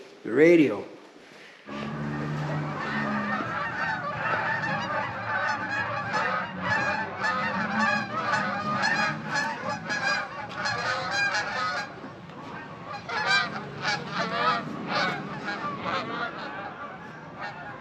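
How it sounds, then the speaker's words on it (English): Geese honk repeatedly in a loud, busy chorus, with overlapping calls going on for several seconds, one brief honk standing out at the start. "Geese galore."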